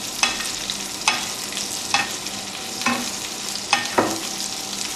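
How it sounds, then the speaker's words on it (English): A rack of lamb sizzles steadily in a pan with flaming butter, with regular scraping spoon strokes about once a second as the butter is basted over it, close and with no talk. "So while you're cooking, keep basting."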